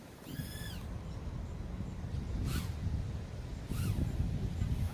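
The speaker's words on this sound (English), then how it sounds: "A bird tried to go after it for a second there." A bird calls near a small TinyHawk freestyle drone in flight, giving a few short harmonic chirps at the start and brief sweeping calls later, set against steady drone buzz and outdoor noise.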